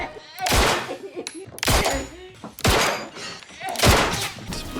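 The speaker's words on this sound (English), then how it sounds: "let their volatile rounds bounce around everywhere whilst activating controlled demolition explosions" The Hardlight exotic gun in Destiny fires volatile rounds that set off explosions, four loud booming blasts at roughly one-second intervals, each with a ringing decay and a clatter of smaller impacts.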